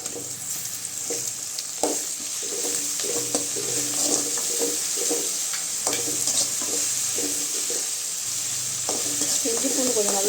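Onion frying with ginger garlic paste in a pan for a country chicken gravy, a continuous close sizzle with repeated rhythmic scrapes and taps of a spoon stirring, no talking.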